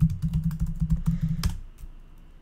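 Rapid keystrokes on a computer keyboard while a yarn command is entered to add React Router, close and crisp for about a second and a half, then stopping into quiet room tone.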